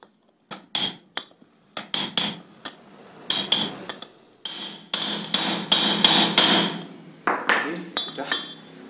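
A hammer strikes metal repeatedly to drive a motorcycle steering bearing race into place, giving sharp ringing clanks in irregular bursts, some rapid and some spaced apart, close and fairly loud, with someone talking at times.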